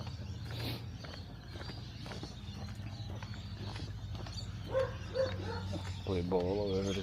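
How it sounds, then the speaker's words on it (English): A dog barks a few times at a distance along a street in Innisfail, Australia, faint among outdoor ambience and a voice talking while walking. "Dog going off."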